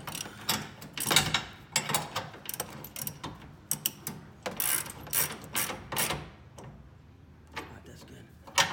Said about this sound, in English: You just got your regular ratchet.